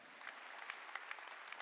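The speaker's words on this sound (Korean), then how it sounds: "박수야." Congregation clapping along during a Korean Sunday church worship service, a faint, steady patter of many hands with a few sharper claps standing out, heard at a distance.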